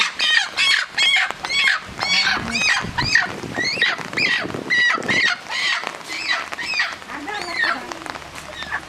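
A chicken kept for slaughter clucks and squawks loudly and insistently at close range, its calls packed together in quick bursts over the whole stretch.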